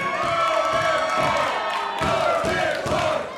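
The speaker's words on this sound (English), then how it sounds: "Cheer for the idiot." A wrestling crowd at a CWFH show cheers and shouts in loud waves, with rhythmic chanting pulses and scattered thuds, filling the space close and continuous.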